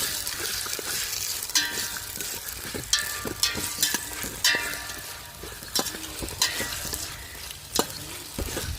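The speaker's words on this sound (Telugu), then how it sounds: "కొత్తిమీర పుదీనా కూడా వేసుకొని మొత్తం బాగా చేసుకోవాలి" A spoon stirs coriander and mint into mutton pulao in a hot pan, with a steady sizzle and frying hiss under repeated scraping strokes, close and continuous.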